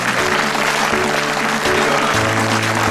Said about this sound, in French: vous pouvez l'applaudir pour cette présentation